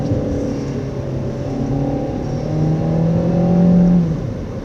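Car with automatic transmission climbing a steep road, engine droning steadily from inside the cabin with pitch slowly rising as it pulls uphill, no talk.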